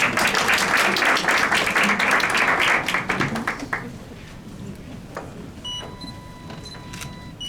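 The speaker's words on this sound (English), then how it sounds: "Please, let's give her a round of applause as she comes." A round of applause at a WSA United Nations side event as a speaker comes up, dense clapping from the audience that fades out after about four seconds, followed by quieter room noise and a few faint clicks.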